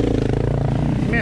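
A KTM 950 motorcycle on a narrow dirt path gives a steady, loud, throbbing engine drone up close, holding a constant note throughout.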